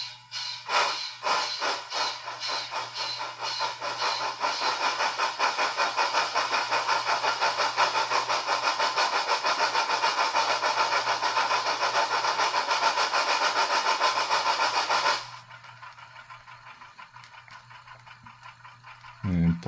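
A Bachmann On30 Shay model locomotive's sound decoder plays a rapid, steady chuffing exhaust with a hissing, rattling texture, running loud and close for about fifteen seconds before cutting out to a faint background hum.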